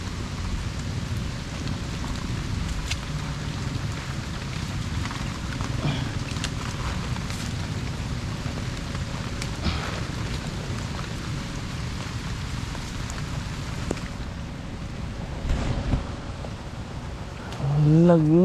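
Rain falls steadily over an ampalaya bitter gourd farm, a constant broad hiss with low rumbling underneath, with a few faint passing sounds and a brief tonal sweep near the end.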